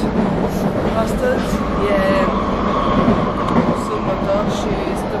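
Inside a moving metro train, a steady loud rumble of wheels and motor fills the carriage, with occasional high squeals from the rails, while a person talks over it.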